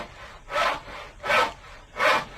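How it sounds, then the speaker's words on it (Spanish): A small hand saw cuts through wood in three steady, rasping strokes, each about half a second long, with short pauses between them. The sawing is close and fairly loud. "El ruido rápido, nervioso de la sierrecilla"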